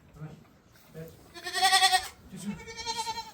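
Several goats, including month-old kids, bleat in wavering, nasal cries, some close and loud, one after another with short gaps between calls.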